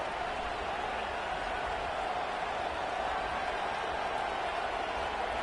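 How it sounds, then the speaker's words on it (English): Steady stadium crowd roar fills a College Football 26 game, a dense continuous wash of cheering and noise during a timeout before a field goal try, with no distinct voices standing out. "This crowd trying to do its part to get inside the kicker's head."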